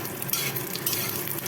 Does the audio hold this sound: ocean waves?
no